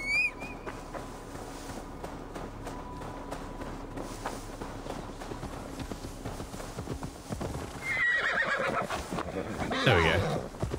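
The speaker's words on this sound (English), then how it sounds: "Horse?" Hooves clip-clop steadily, then a horse gives a loud, shrill neigh near the end in Assassin's Creed Valhalla, with faint music and ambience underneath.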